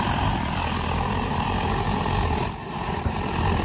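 A Primus 71 petrol camping stove with its valve opened gives a steady, dense roaring hiss from close by, holding constant apart from a brief dip near the end, with no talking.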